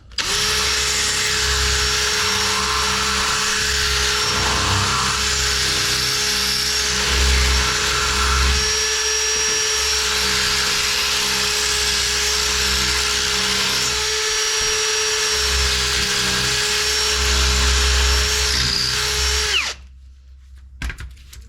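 A power drill enlarges bolt holes for an external transmission filter kit, running loud and steady with a constant whine and slight load changes for about twenty seconds before cutting off abruptly.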